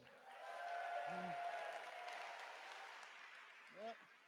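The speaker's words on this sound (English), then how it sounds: "Give her a round of applause." Convention closing-ceremony audience applauding, a sustained crowd clapping at moderate level with a tonal hum over it and brief voices cutting in near the start and end.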